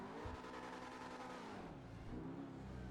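The Emperor ETR1 rear-wheel-drive car in GTA Online runs its engine loud and close, the tone sliding down and then climbing again as the revs rise and fall.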